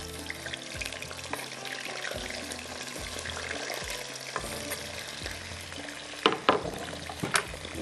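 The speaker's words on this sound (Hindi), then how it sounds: "जब तक यहाँ पर शाहताज कुकिंग ऑयल जो है फ्राई हो रहा है, सॉरी गरम हो रहा है, तो इसमें हम डाल देते हैं आलू" Potato pieces frying in hot cooking oil, a steady close sizzle and bubbling that runs throughout, with a few louder clatters and splashes near the end.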